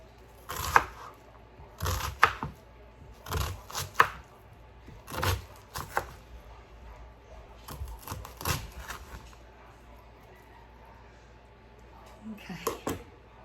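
A knife chops a strong onion on a cutting board for split pea soup, giving irregular close, sharp knocks in short bursts with quiet gaps between them.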